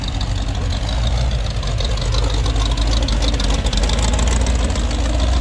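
A T-bucket hot rod engine rumbles steadily as the car rolls in at a street cruise-in car show in Crossville, Tennessee, a loud, close, continuous low drone with a rough idle texture.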